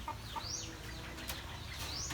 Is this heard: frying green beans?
no